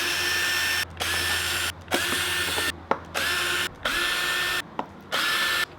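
A power drill removes bolts from a Onewheel board in a run of whirring bursts, about seven spins of roughly a second each separated by brief silences, close and clear.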